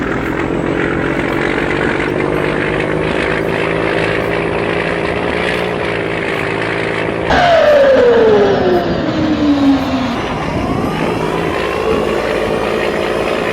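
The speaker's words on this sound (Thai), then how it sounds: "เสียงท่อลั่นลั่นจนกูหนวกหูอ่ะ" A big excavator in Farming Simulator 22 drones with a loud, constant exhaust roar, then the engine note surges and sweeps downward in pitch before settling back into a steady rumble, with no talk over it.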